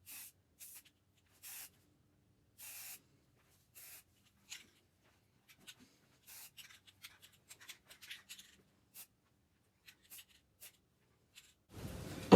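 Short, sharp bursts of spray paint hiss in quick, irregular puffs onto a piece of furniture being given a crackle finish over chalk paint, close and distinct with quiet gaps between, ending in a louder rustle.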